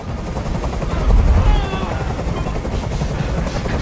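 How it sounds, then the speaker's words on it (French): A helicopter from the Detroit: Become Human video game hovers close by, its rotor thumping as a steady, loud roar with a low heavy beat that surges briefly, heard alone. "Fais dégager cet hélicoptère, maintenant!"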